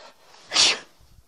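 A single sharp sneeze bursts out near the middle, loud and close, flanked by faint breathing and near silence.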